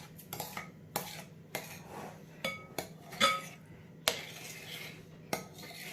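A spoon stirs a sugary mixture for cornflake or rice krispie cakes in a pan, producing close, irregular scrapes and sharp metallic clinks against the pan, each stroke separated by brief pauses, with no talking.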